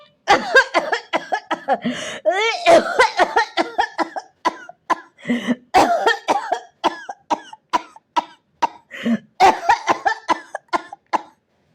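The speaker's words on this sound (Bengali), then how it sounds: "খানিক কেশে নিয়ে" A person coughs repeatedly in harsh, chesty bursts, one fit after another with brief gasps between, loud and close, with no talking.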